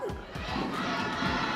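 A large live crowd cheers and shouts loudly and continuously at a Mobile Legends MPL Philippines Season 15 esports match, with excited voices and a faint announcer voice mixed into the roar.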